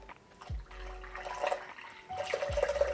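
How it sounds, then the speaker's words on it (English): Hot clarified punch mixture of cognac, port and Earl Grey tea is poured into coconut milk, producing short, soft liquid splashes and trickles at close range with a quiet background. "Now we take our mixture and pour it right in."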